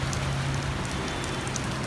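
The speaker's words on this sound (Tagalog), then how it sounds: "Kasi sa Bahrain, kunting ulan lang." Rain pouring onto a flooded street in Bahrain, a dense, even hiss of drops splashing on water, close and steady through the short stretch with no voices.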